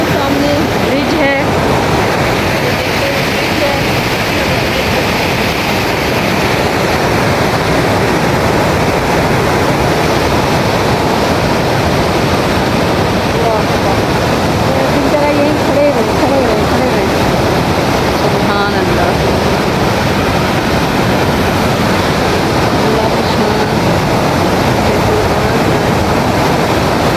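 The Kunhar River rushes past, heard from a few steps away on a cold, windy July morning in Pakistan's northern mountains near a bridge. It makes a steady, loud, unbroken roar of water with some wind.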